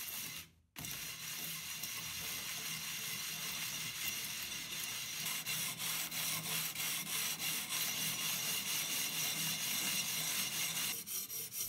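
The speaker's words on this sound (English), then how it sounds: "To smooth the edge, I used 60 grit sandpaper and wet sanded to acceptable" Wet sanding the cut edge of a square glass bottle with 60 grit sandpaper, a close, continuous gritty rubbing with a rapid back-and-forth scraping rhythm, broken by one brief silent pause near the start.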